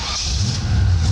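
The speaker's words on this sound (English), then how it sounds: "Second pull starts the car." A 1962 Chevrolet Impala engine catches and runs, a loud low rumble that rises and steadies over a short moment, close by with no talking.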